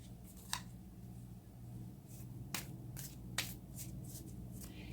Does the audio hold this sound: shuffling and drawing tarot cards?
yes